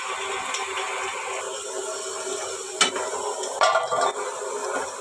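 Green chili, garlic and onion fry in hot oil in a pan, giving a steady close sizzle broken by a few sharp clinks and scrapes of a utensil, with no talking.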